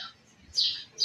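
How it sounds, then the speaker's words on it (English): Birds chirp among the plant displays inside a Home Depot store, bright high tweets coming in two or three short bursts over a quiet indoor hum. "There's literally like birds everywhere."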